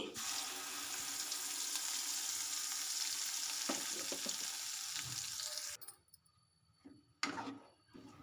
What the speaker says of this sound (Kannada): ನಾವು ಆವಾಗಲೇ ರುಬ್ಬಿ ಇಟ್ಕೊಂಡಿರುವಂಥ ಚಟ್ನಿನ ಇದಕ್ಕೆ ಹಾಕಿ ಮಿಕ್ಸ್ ಮಾಡ್ಕೊಳ್ತಾ ಇದ್ದೀನಿ